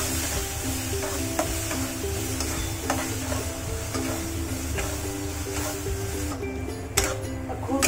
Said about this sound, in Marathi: खूप छान आंब्याचा रस असा मिक्स करून घ्यायचा